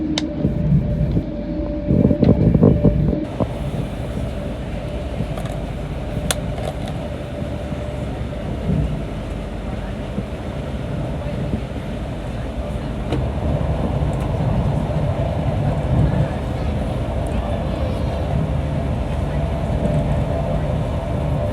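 Interior of an LNER train running from Leeds to London King's Cross, a steady loud rumble and rolling hum throughout, with some louder clattering and bumps early on and an even drone afterward.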